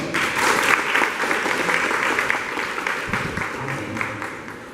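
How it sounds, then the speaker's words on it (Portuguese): A congregation at a prayer group claps for the brothers, a dense, steady round of applause that fills the room at close range and holds strong throughout, tapering only slightly near the end. "Vamos dar uma salva de palmas para os irmãos?"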